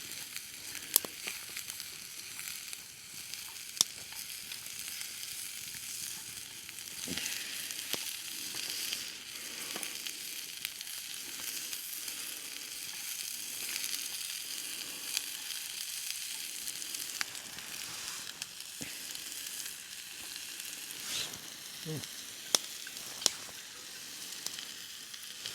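Steak sizzling and frying in oil in a pan over a wood-burning stick stove under a tarp on a beach, a steady bright crackle running throughout with occasional sharper pops, close and alone.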